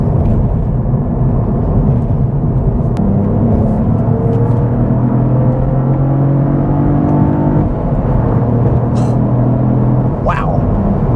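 A Cadillac CT4 Blackwing's engine burbling along around 3,000 RPM in third gear, a loud, steady low rumble with road and cabin hum, heard from inside the car while driving.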